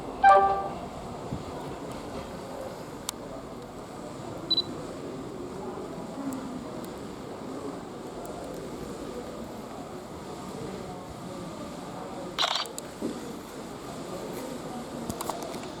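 A South Western Railway train departs Basingstoke station bound for London Waterloo, a low, distant rumble that holds steady under platform ambience, with a few brief clicks and knocks and a short louder burst partway through.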